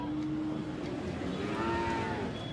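Thin, bony cattle low at the crowded Satmile cattle market. A long, drawn-out moo carries over a constant noisy background of the market.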